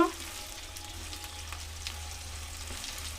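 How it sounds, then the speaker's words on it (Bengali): Chicken pakoras frying in oil and being stirred, a steady soft sizzle with faint scraping touches running evenly throughout, no talking. "এবার নেড়ে চেড়ে নিচ্ছি লাল লাল মতো করে ভেজে নেব"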